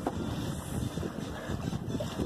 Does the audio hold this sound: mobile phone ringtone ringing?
no